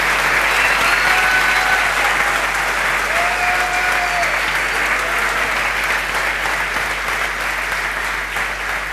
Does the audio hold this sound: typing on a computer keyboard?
no